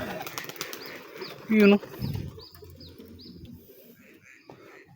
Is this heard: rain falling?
no